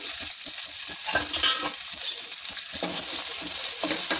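Onions and curry leaves fry in a little oil for an Ooty chilli curry, with a steady close sizzle and repeated scraping stirs throughout and no talking.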